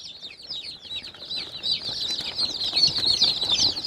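A flock of sultan chickens clucks and chatters continuously at close range, many overlapping high calls with occasional wing flaps and no talking.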